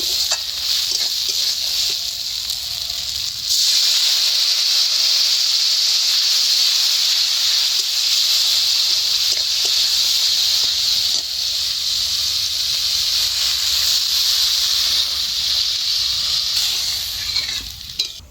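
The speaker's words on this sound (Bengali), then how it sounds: "এইবারে দিয়ে দেবো জল।" Water poured onto frying spice paste for an egg curry sets off a loud, sustained sizzling hiss that swells partway through and carries on steadily, with no talking.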